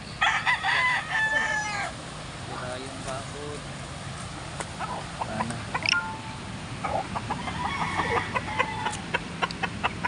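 Several chickens clucking and a rooster crowing nearby over outdoor background noise, with scattered bird calls throughout.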